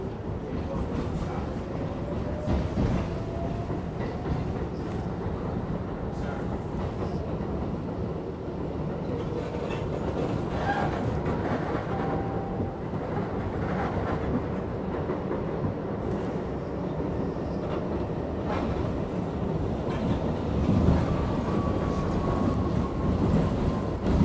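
Steady rumble of a train rolling along rails, with faint clickety-clack and occasional squeals over a continuous low roar, heard from inside a carriage on a late-night ride.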